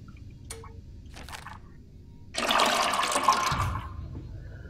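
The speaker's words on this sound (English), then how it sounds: "Pouring gasoline." Gasoline pouring from a can in the Monstrum horror video game, a steady splashing liquid gush rising over a low ambient drone and running for over a second, fairly close.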